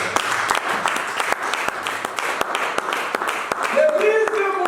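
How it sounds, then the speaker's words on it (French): A church congregation claps and applauds together in a dense, rapid patter, with shouts and a voice rising over the clapping toward the end. "Est-ce que quelqu'un peut acclamer Jésus?"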